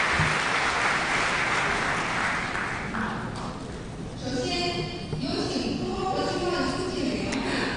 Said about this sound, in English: Let us give them a warm round of applause to welcome them again